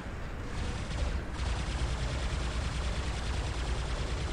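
A robot's turret in the video game War Robots fires in dense, continuous bursts, a loud rattling stream of gunfire with almost no pauses.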